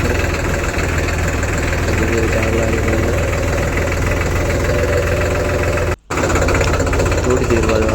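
A tractor engine runs continuously at close range on a farm field, a loud, steady low rumble with a rhythmic knocking throb and vibration, dipping out for a split second before resuming.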